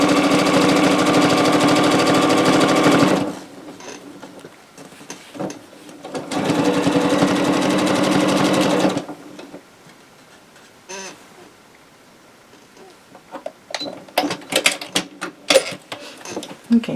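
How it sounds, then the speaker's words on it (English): A sewing machine stitches minky quilt fabric in two steady, loud runs of rapid mechanical whirring, each lasting several seconds and separated by a pause. Faint handling clicks and small knocks follow once the motor stops. "I'm just gonna sew from here to here on top of the fish material"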